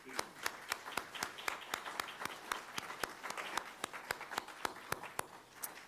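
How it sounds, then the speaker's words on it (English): Sparse, quiet, distinct claps from a small audience at a literacy graduation ceremony, applauding a brass quintet in a steady scattered rhythm for several seconds. "please join me in giving them a round of applause"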